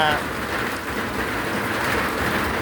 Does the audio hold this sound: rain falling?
yes